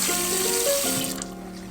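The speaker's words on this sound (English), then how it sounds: "Under some water, just to cool it off." A tap runs water over a dental wax rim to cool it, giving a close, steady splashing flow with shifting tones as the rim moves under the stream, then easing off near the end.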